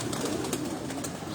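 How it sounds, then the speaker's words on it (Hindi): Flying pigeons cooing together inside a female breeding cage, a steady murmur of overlapping coos and soft flutters that fills the whole short stretch at fairly close range, with no talk over it. "मादा केज है परवाजी कबूतरों का।"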